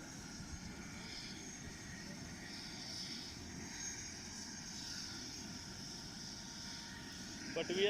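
A helicopter taking off, heard from far away as a faint, steady engine and rotor drone that stays even throughout and rises slightly at the very end.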